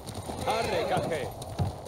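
Hooves clip-clopping from a horse in the Ghost of Tsushima game, a steady rhythmic trot under a voice talking over it.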